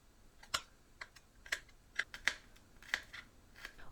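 A knife slices peeled garlic on a cutting board: a dozen quick, crisp taps in an uneven rhythm, close and fairly quiet, with no voices.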